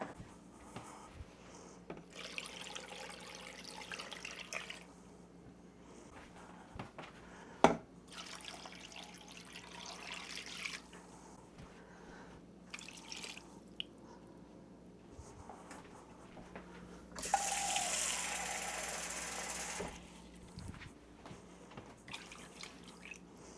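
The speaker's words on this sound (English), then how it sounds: "And then we're gonna add, should be about 16 cups of water." Tap water runs into a pot for chicken bone broth in a home kitchen, with steady hissing bursts of filling that stop and start several times, the last burst louder and closer.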